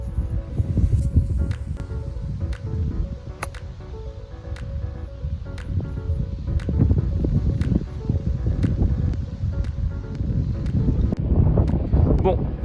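Strong wind buffets the microphone on a golf course, a heavy, continuous low rumble with gusts. Faint ticks and rustling are heard through it.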